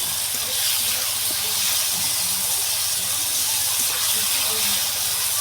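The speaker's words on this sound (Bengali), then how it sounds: "আর পেঁয়াজ আদা রসুন দিয়ে টমেটো কষাচ্ছে মশলা তৈরি হচ্ছে" Tomatoes sauté with onion, ginger and garlic for a river fish curry, giving a steady close sizzle and hiss throughout, with faint background sounds beneath.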